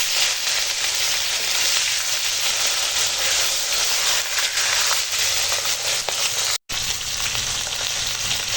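Pieces of Bhola fish sizzle steadily in hot oil with a loud, close, unbroken hiss and fine crackling, and the sound cuts out for an instant near the end.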